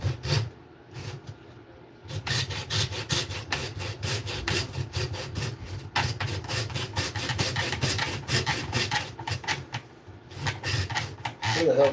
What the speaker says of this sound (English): I always use a thicker hacksaw blade